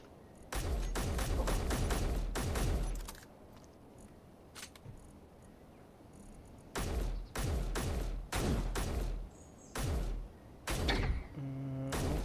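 MR8P rifle in Space Engineers firing in short, sharp bursts: a rapid string of shots, a quiet pause, then several separate volleys in a steady rhythm, loud and close with almost no talk.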